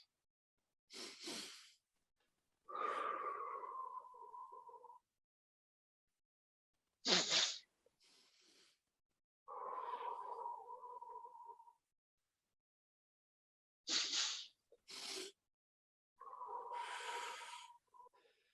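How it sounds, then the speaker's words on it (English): Two sets of deep breaths drawn in through the nose, each a sharp sniff followed by a longer drawn inhale and then a release, separated by quiet pauses, close and clear with no talking. "It's just 2 big breaths in the nose."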